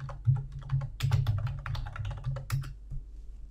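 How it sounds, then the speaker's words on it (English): Fingers typing a task name on a computer keyboard, a steady run of quick close key clicks with a few louder strokes, no voices. "then type in the name of the task."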